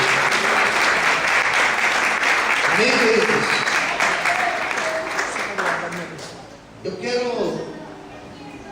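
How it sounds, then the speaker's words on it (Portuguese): Steady, loud applause from a church congregation at an evening worship service fills the space, with a preacher's voice speaking and briefly calling out over the clapping. "Desocupe a sua mão, aplauda o Senhor."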